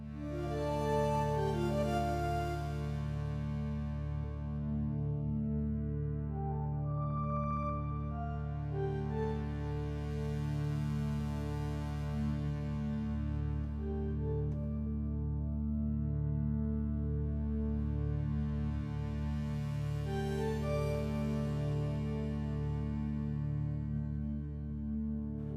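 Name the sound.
synthesizer patch with ping-pong delay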